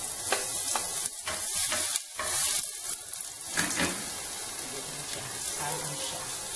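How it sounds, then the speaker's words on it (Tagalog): Garlic, chili and onion sizzle and fry in a little oil in a pan, a steady close crackle broken by stirring scrapes, loud and continuous without speech. "Lagyan ko siya ng konting mantika para mag-isa lang si bawang, sili, sibuyas."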